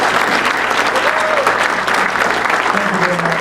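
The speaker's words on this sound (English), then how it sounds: "a big round of applause for all the work they did" Sustained audience applause at a general membership meeting honoring office staff, a steady dense clapping wash from a crowd with faint voices mixed in underneath.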